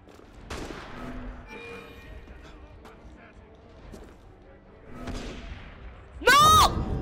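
Bursts of video game gunfire crack out in a few short volleys, with a loud sharp blast near the end, amid excited talking from players.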